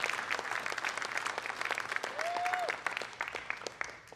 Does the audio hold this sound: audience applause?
yes